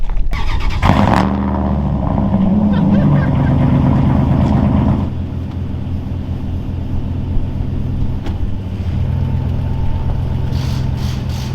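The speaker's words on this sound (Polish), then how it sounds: "Zobaczcie jak ram odpada na cold starcie." A modified Corvette Z06 with a damaged body firing up cold in winter: a sharp crank and catch, then a loud, rough high idle that drops to a steadier lower idle after a few seconds, close by.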